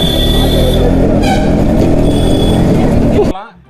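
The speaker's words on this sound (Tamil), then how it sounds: "டிராஃபிக்காவே மாத்துறாங்க இந்த ஊரை" Dense road traffic rumbles nearby with engines and horns, a person talking over the noise before it cuts off abruptly.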